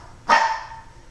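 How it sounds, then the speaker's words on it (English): A small yappy dog lets out one sharp, loud bark close by indoors, then falls silent. "I gotta get this fucking dog out of here."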